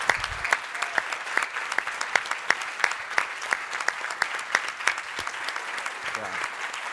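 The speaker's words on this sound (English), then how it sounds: "put another round of applause" Audience at a school levy event applauding scholars, steady clapping with individual sharp claps standing out, moderately loud and sustained throughout.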